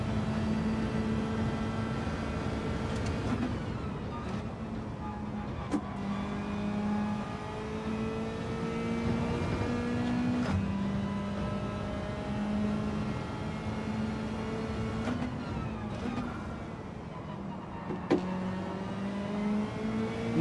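A race car in Gran Turismo 7 accelerates uphill, its engine droning steadily with rising pitch sweeps through the gears, a few faint clicks marking the shifts.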